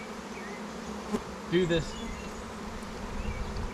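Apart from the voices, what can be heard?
honeybees buzzing at a nuc hive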